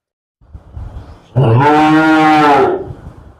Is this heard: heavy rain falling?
no